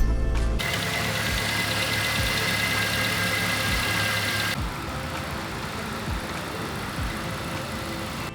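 A cold truck engine idles steadily for several seconds, a low continuous rumble with a faint repetitive ticking running through it.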